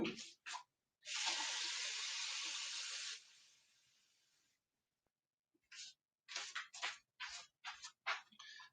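Water runs from a tap in a long hissing gush that fades out, after a couple of short spurts, and then several short splashy bursts follow in quick succession.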